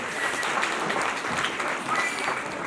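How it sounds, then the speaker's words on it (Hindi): An audience at a school annual function claps for the children, a steady, moderately loud wash of applause that holds through the whole stretch without a break. "एक बार इन बच्चों के लिए जोरदार तालियां बजा दीजिए"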